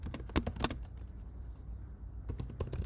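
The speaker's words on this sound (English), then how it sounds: "let me just type it out" Fingers type on a computer keyboard close by in quick irregular keystrokes, pausing briefly in the middle before resuming, with no talking.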